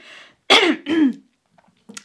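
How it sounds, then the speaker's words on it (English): A person clears their throat twice in quick, close, rasping bursts after a faint voice, then a brief silence and a small trailing sound. "Let me cough here."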